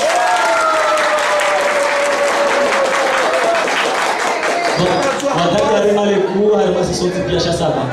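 Sustained crowd applause at a slam poetry evening, loud and dense throughout, with voices and singing-like tones carrying over the clapping.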